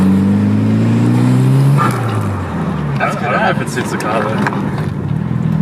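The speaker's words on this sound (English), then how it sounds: "That's really loud for taking a pod filter." Mitsubishi Evo 7 with a pod filter fitted: loud engine revving close by, with a falling drone followed by rough, fluttering turbo bursts, while people talk over it.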